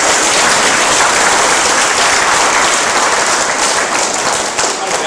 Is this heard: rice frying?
no